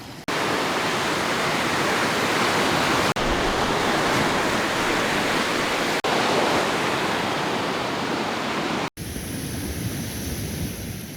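Waves on the Lake Superior coast, a loud continuous roaring wash of surf with wind, broken by a few brief cuts.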